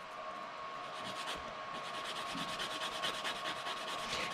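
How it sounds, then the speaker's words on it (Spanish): Sanding block rubbed over a plastic model kit part, a quiet rhythmic scratchy rasping with quick back-and-forth strokes, close and faint with no talking. "con un taco de lija"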